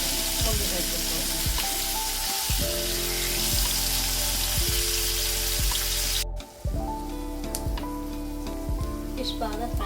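Vanjaram fish fries in a pan with a continuous bright sizzle and crackle, heard beneath loud background music throughout, with a brief dip in the middle.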